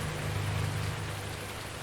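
Steady, dense rain hiss in the Farming Simulator 19 video game, a constant wash with a low hum underneath, no voices.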